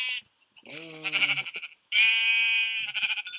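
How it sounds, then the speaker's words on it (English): Sheep in a city-building video game bleat several times, loud and close, with wavering, drawn-out calls separated by short silences. "Let's kill these sheep."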